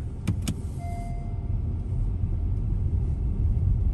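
A car stuck in snow, its engine droning and rumbling steadily up close, with two sharp clicks at the start and a faint whine, no voices.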